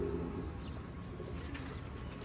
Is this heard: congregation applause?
no